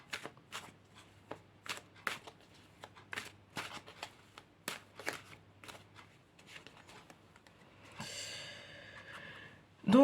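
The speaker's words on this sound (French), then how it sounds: "tirer une dernière carte." Tarot cards shuffled and drawn by hand, a run of crisp riffling flicks and slaps in an irregular rhythm, close and clear, followed by a longer soft sliding rustle at the end.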